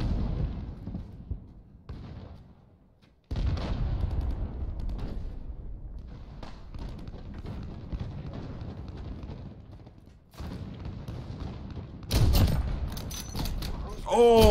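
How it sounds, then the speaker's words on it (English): A cruise missile strike in the Modern Warfare video game, heard as rumbling explosions and a dense roar of blasts, with a sharper crackling burst near the end, under an announcer-style voice and a player speaking. "Allied cruise missile launched."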